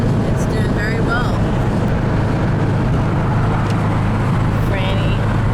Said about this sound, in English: our 356, which I can say now is ours, is purring like a little kitten